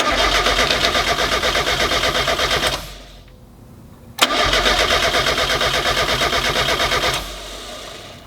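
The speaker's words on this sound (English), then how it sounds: "and then I'm just gonna crank it over." A supercharged Mazda Miata rally car cranks over with the fuel pump relay removed so it cannot fire. The starter churns loudly and rhythmically, stops briefly, then cranks again for several seconds.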